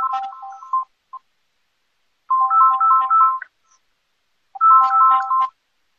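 A telephone rings in during a radio call-in show, sounding as three loud, separate bursts of electronic warbling tone with silent gaps between them.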